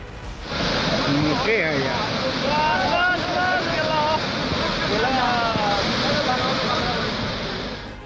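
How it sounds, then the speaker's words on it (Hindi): Floodwaters of the swollen Bagmati and Lal Bakaiya rivers in Nepal after heavy rain roar in a loud, steady broadband rush that never lets up, with voices faintly audible beneath the torrent. "पहले उफान पर आई बागमती नदी और लाल बकैया नदी का शोर सुनिए"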